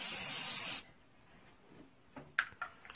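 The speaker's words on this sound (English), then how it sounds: "spray it in a zigzag motion" Airbrush foundation sprays from a bottle onto skin in a loud, close hiss lasting under a second, followed by quiet and a few soft taps.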